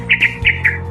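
A house wren calls near its nest in a flowering bougainvillea plant, giving four bright, close chirps in a quick, even series over a steady low hum.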